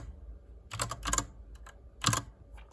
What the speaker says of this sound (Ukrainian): мені дуже удобно печатати на цій клавіатурі